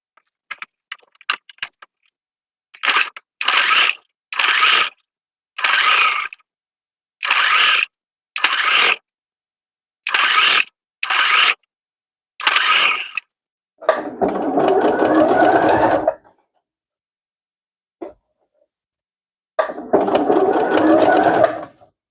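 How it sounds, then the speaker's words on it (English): A sewing machine stitches piping onto a denim bag made from jeans, running in about eight short loud bursts, then two longer runs separated by quiet pauses. "I'm going to sew the piping on"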